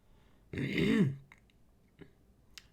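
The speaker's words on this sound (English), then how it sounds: "Gotta clear my throat." A single throaty rasp of someone clearing their throat, close and fairly loud, followed by a couple of faint clicks and taps.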